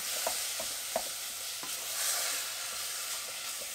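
475 grams of lamb mince browning in a hot pan, giving a faint, steady sizzle throughout with a few soft scrapes from stirring and no talk.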